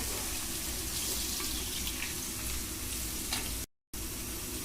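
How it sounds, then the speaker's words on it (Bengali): Onion frying in oil in a pan gives a dense, continuous sizzling hiss with faint scraping stirs, broken once by a brief dropout to silence near the end. "পেঁয়াজটা এখন আমি একটু ভেজে নেবো"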